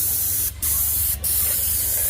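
A Graco low-pressure airless paint sprayer coating the exterior of a house, giving a loud, close, continuous spray hiss that cuts out briefly twice between passes, with no voices.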